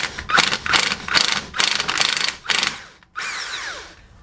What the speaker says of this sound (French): on va extraire la rotule de direction avec une douille de 16